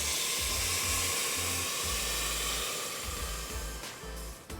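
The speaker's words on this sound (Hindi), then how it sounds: "और अब जाएगा पानी।" Water pours into a hot pan of dalia, soaked dal and turmeric. It gives a loud, steady rushing hiss and sizzle that eases off toward the end, heard close with no talking.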